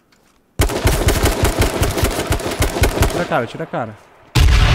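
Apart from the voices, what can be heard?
grenade explosion and gunfire in the video game H1Z1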